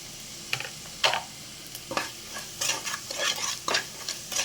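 Onions with Kashmiri chili powder and salt fry in oil in a pan for a cashew mushroom curry, a low sizzle under repeated sharp scrapes and taps of a spoon stirring against the pan.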